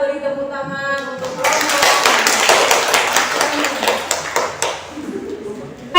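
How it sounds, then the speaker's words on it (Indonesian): A class gives a round of applause, busy clapping rising after a voice speaks and continuing steadily for about three seconds before thinning out as talk resumes. "Kita beri tepuk tangan untuk"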